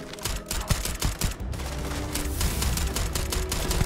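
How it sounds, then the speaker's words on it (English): Rapid automatic gunfire in Starfield, dense rattling bursts with sharp individual shots, loud and continuous throughout. "Start shooting us first thing."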